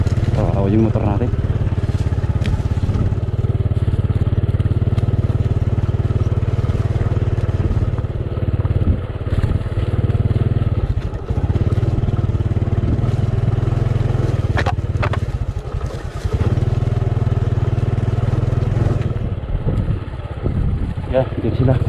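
A secondhand carbureted Honda XRM 125 motorcycle runs steadily on an outdoor ride, its engine droning loud and close throughout with wind buffeting, while someone talks over it now and then.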